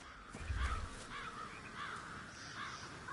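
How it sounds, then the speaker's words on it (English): Crows cawing and making a racket, with several harsh caws repeating at a moderate distance over steady outdoor background noise. "It's the birds."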